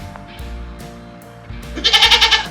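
Goats in a barn shuffle about before one goat lets out a loud, wavering bleat near the end, close by.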